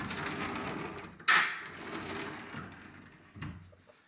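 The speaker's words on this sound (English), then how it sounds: "Another pocket door." A pocket door in a renovated barn apartment slides along its track. There is one sharp bump partway through and a softer knock near the end, with no speech.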